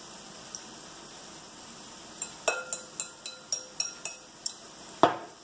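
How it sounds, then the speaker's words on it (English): Gluten-free spaetzle batter is whisked in a bowl, giving a quick series of about eight rhythmic clinks against the bowl side after a quiet start, ending in one louder knock, all close and clear with no talk. "Mix that up with a whisk."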